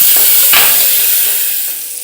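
Onion and tomato sizzle and hiss steadily in a hot pan, with a stirring scrape midway, loud and close with no talk.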